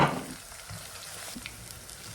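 Soft, steady sizzling of garlic frying in oil, fairly quiet, with a brief louder burst at the very start and faint crackles throughout.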